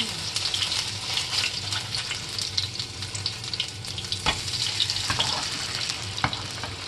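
Oil spattering and sizzling in a pan as hamburg steak fries, with water dripping into the hot fat; a steady close crackle with sharper pops throughout, no voices.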